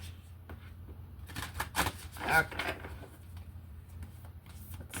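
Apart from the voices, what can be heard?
shuffling tarot/oracle cards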